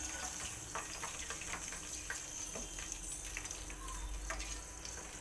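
Ghee simmers and bubbles in a pan as it is heated and clarified, giving a quiet, continuous crackle and fizz of small popping bubbles.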